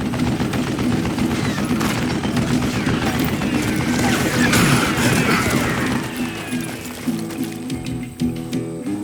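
Rapid mounted gunfire in the Western game Call of Juarez Gunslinger, a dense, sustained clatter of shots under loud battle noise that thins out toward the end.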